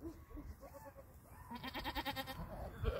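A goat among adults and babies bleats once, a wavering nasal call in the second half, over quiet background noise.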